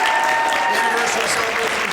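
Audience applause at the Abbey Players 75th anniversary show, dense steady clapping filling the hall at a constant level, with faint voices mixed into the crowd.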